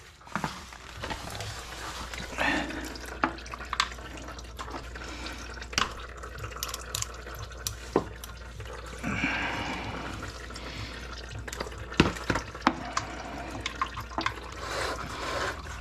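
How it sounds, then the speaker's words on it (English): Engine oil drains steadily from the oil pan of a 2023 Honda Talon 1000R into a catch pan, a continuous close liquid trickle with scattered louder drips and clinks, no talking. "We'll let that drain there for a few minutes. Make sure we get all the oil out."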